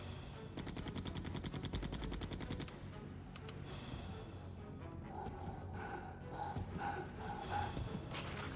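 Rapid gunfire in Resident Evil 2 on the N64, a dense burst of loud repeated shots for the first few seconds, then thinner booms and game effects with a voice over them.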